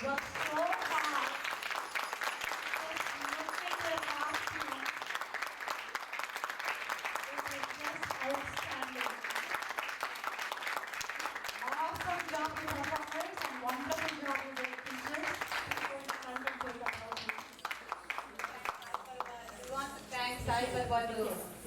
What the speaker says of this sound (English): The applause can be a little louder.